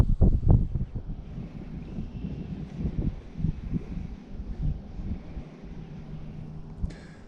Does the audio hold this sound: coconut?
no